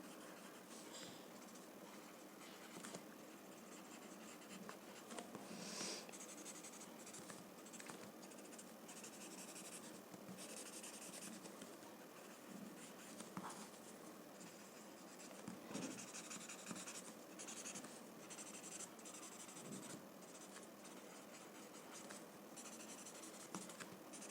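A blending stump rubs graphite across paper on a drawing, making a faint, continuous dry scratching and hissing with small irregular strokes, very quiet and close, with no voices.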